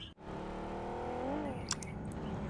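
Vehicle engine in BGMI, the mobile battle royale game, droning steadily and rising in pitch as it accelerates, then a few sharp clicks and short bursts near the end.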